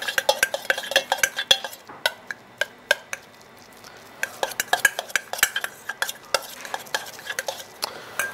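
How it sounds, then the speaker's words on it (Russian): Spoon stirring food in a dish during a kitchen cooking session, a steady run of close, sharp metallic clinks and scrapes against the bowl with no talk over it. "Перемешиваем."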